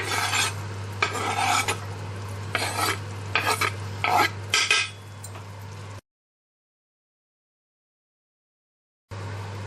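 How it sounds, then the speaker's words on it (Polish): Carrot added to a pan of stewing pork and onion, then stirred with a utensil: repeated scraping, clinking strokes over a low sizzle, close by, with the sound cutting out to silence for a few seconds before resuming. "I tą marchewkę dodaję teraz na patelnię"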